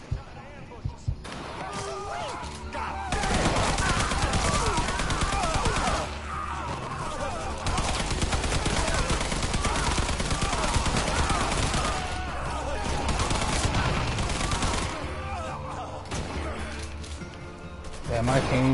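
Sniper gunfire during a mission in the game Mafia III: loud, dense bursts of shots and impacts run through most of the scene, broken by brief pauses, with game effects and a voice mixed in.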